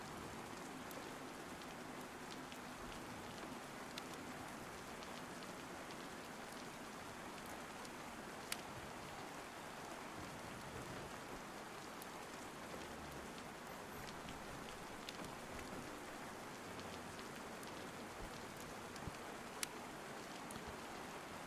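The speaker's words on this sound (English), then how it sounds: "We're gonna have to go out in the rain again anyway." Steady rain in the DayZ survival game on the Chernarus map, a dense, even hiss of falling drops that continues without a break and with no talk, with a few faint ticks of individual drops.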